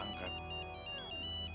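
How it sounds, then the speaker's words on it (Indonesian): A phone ringtone plays indoors for an important call, a steady electronic melody with a quick repeating pulse, fairly soft and alone. "Itu telepon penting. Saya harus angkat."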